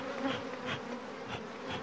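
Bees buzzing around an open hive during a queen cell check on a chestnut mountainside, a steady close drone with pulsing swells, no talking.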